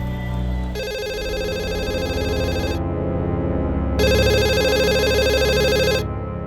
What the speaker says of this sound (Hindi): लैंडलाइन पे फोन लगाओ।